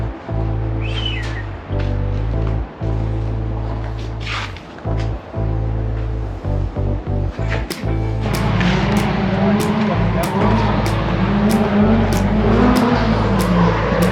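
A Nissan S13 drift car works a track on a Thursday drift night, its engine droning and revving loudly and steadily, with sharp bursts and tire-squeal texture building in the second half.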